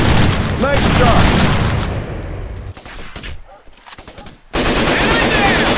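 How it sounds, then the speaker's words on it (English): Heavy gunfire in the PC shooter Raven Squad: dense, loud automatic bursts and booms that thin out into scattered shots during a quieter stretch, then erupt again at full volume. "They're shooting at me!"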